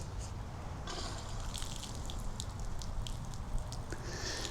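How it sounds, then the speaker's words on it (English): Water runs steadily into the supply hose of a YerYork adjustable pressure washer, a soft continuous trickle and hiss with faint drips, close by and alone. "Let me get some water running"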